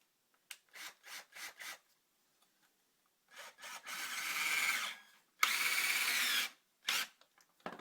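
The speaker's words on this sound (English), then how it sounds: "So now I'm just going to start screwing this all together." A power drill drives screws into a homemade wooden carpet knee kicker, starting with several short, quick trigger bursts, then two longer whirring runs and a final brief burst, with silent gaps between.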